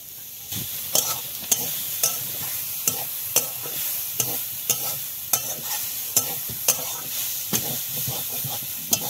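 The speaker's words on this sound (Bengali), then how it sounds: "এখন উনুন জ্বালিয়ে এই যে বন্ধুরা নারকেলটা ভেজে নিচ্ছি আগে" Grated coconut fries in a pan over a lit cooking stove, a constant hiss broken by sharp, regular scraping strokes of a spatula roughly every second.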